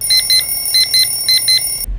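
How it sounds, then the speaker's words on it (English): An alarm clock goes off nearby, loud, in three pairs of rapid high beeps over a steady electronic tone, which cuts out abruptly near the end. "Oh, that's the alarm."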